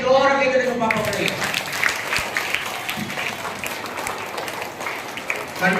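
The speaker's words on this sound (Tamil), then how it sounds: "மீண்டும் ஒரு முறை ஜோர கைதட்டுங்க பாப்போம்" Children at a church catechism Christmas gathering clap together in a loud, sustained burst that gradually thins out, with a faint voice audible underneath.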